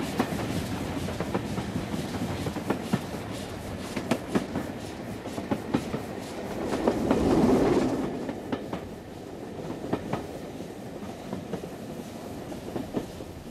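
A steam locomotive train rolls past through the English countryside with rhythmic clickety-clack from the wheels and a swelling rumble midway that fades, heard from outside at moderate distance.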